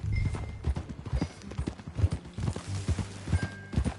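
Rapid clip-clop of horse hooves while riding in Red Dead Redemption 2, an uneven galloping rhythm of close, fairly quiet thuds with no talking.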